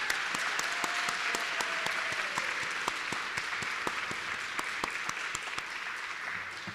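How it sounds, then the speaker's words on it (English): An audience at a school-district teaching-excellence luncheon claps in a steady round of applause, dense, even clapping across a large room that continues for several seconds with no speech over it. "So maybe we can give a round of applause to Peggy and Judy."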